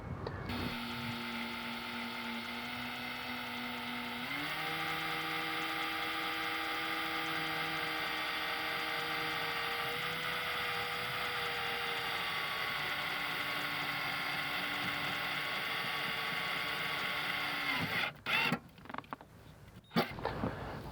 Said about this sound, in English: The objective here is to put a self-tapping screw to support the cable that I'm going to run